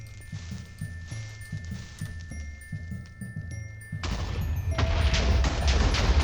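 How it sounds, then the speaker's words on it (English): Explosions burst out in Minecraft, a rapid crackling fusillade of blasts that swells into a louder, sustained rumbling roar over a steady game soundtrack. "now that's a much more satisfying explosion than what we had going on there"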